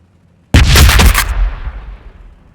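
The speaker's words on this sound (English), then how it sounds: "I should be able to hurl a grenade. Clear out this mess. Grenade out!" A grenade detonates in the video game Warhammer 40K Battlesector, one sudden, very loud blast with a heavy low boom that rolls off into a fading rumble.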